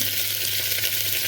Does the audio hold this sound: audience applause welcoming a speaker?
no